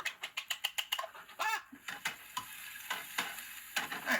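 Garlic sizzles in a hot pan with a steady hiss, and a quick run of rhythmic clicks from stirring at the start, heard close and without speech.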